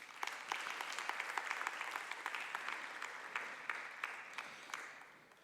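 Audience at a trade and investment indaba claps for the speakers, a moderate, steady round of applause with distinct individual claps, fading out at the end.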